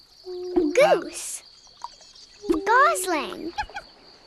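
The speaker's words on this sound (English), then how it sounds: "Goose." Two honking goose calls from the Sago Mini School kids' game, each a short burst of nasal, harmonic-rich honks with clicky onsets, close and clear over a faint steady tone.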